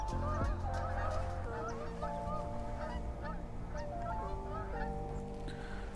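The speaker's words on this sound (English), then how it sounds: "Sorry, geese. I'm in Maryland." Geese in Maryland honk repeatedly from close by, a busy overlapping chorus of loud honks over steady outdoor background noise, with no talk.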